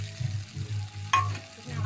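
Fried eggplant is stirred into spiced potatoes in a pan, with a low sizzle, a few soft stirring thumps and one sharper scrape midway.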